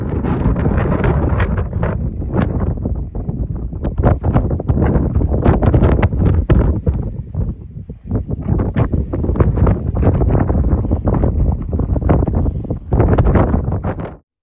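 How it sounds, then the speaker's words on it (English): Strong wind buffets the microphone on the beach at Llanddwyn Island, a loud, continuous roar with gusting pulses throughout and no talking. "As you can hear, it was very windy."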